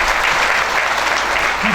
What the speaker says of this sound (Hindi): एक बार उनका भी ताली बजा के सम्मान करें